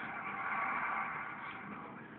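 Car engine droning in GTA IV during a bumper-car stunt session, a steady muffled motor hum with faint tire scrub, fairly quiet and continuous, no talking.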